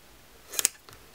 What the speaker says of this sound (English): I'm gonna cut it.